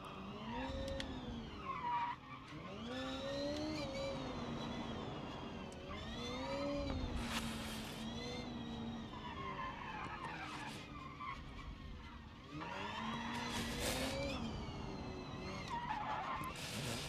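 Rally car in BeamNG.drive on a dangerous mountain road, its tires squealing in long, sweeping skids, with the engine revving and rising between slides. It sounds continuous and fairly close, with repeated bursts of loud screeching.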